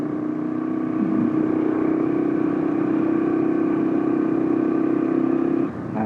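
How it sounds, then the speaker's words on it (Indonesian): A motorcycle engine labours uphill on a potholed mountain road in Gunungkidul, a steady loud drone held at high throttle for several seconds before easing off at the end. "Harus ngegas yang banter ini, yang keras ini gasnya, sampai ngereng ini mesinnya"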